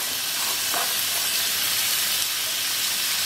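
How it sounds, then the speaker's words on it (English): Diced steak and onions sizzle steadily in a skillet, a continuous close frying hiss with a few brief pops and no talking. "We're going to add that to the skillet along with half of our diced up onions."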